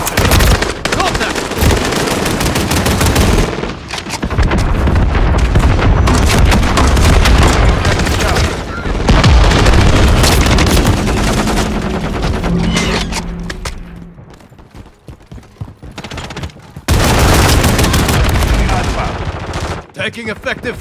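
Rapid bursts of Kastov-545 assault rifle fire ring out in a Call of Duty MW3 Domination match on the Meat map. Loud volleys come in dense strings, with a quieter gap near the middle before heavy firing resumes.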